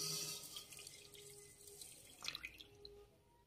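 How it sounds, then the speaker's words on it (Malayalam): About two cups of milk pour into a pan for Italian hot chocolate, a gentle liquid trickle and splash that swells briefly before tapering off, with no talking. "പിന്നെ 2 കപ്പ് പാല് അളന്ന് വെച്ചിരിക്കില്ലേ, അത് ഇതിലേക്കാണ് ഒഴിക്കുക."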